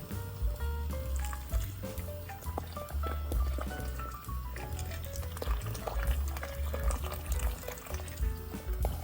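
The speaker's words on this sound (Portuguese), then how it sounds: "Vou cobrir a carne com água agora." Hot water pours into a pot over pieces of beef, a continuous splashing gush with bubbling and sizzling, close and loud with no talk.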